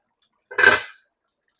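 A lid clanks down onto a pot of Jamaican oxtail to leave it simmering, one short metallic clatter followed by a faint tap a moment later.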